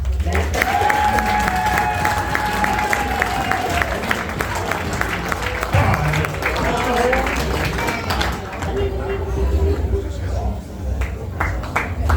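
A round of applause from the audience at a BriSCA V8 Hotstox stock car club anniversary awards night, steady crowd clapping with some cheering throughout, while someone speaks over it.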